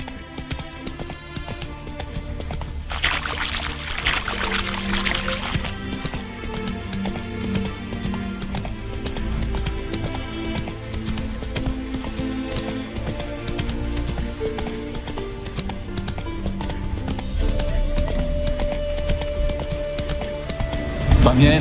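A horse's hooves clip-clop at a steady walking pace in The Witcher 3, a continuous rhythmic patter under game music, with a voice talking over it.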